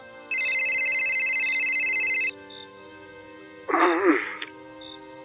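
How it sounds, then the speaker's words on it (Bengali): A phone gives one electronic ring lasting about two seconds, then falls quiet before a short rough burst of noise. "আমি দেখি একবার বিনয়কে ফোন করি।"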